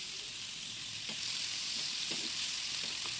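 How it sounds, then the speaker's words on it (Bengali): Chopped onions fry in hot oil in a pan for a Bengali katla posto fish dish, a steady loud sizzle with a few scraping stirs of a spoon, close up and without talk. "এরপর আমি ওই তেলের মধ্যে পেঁয়াজ কুচিগুলো দিয়ে ভালো করে ভেজে নেব।"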